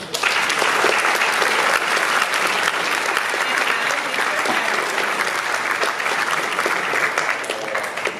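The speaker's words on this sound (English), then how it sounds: "Please give them a round of applause." A school honors assembly audience applauds the honored students: steady, dense clapping from a large crowd, sustained at an even loudness for about eight seconds without a break.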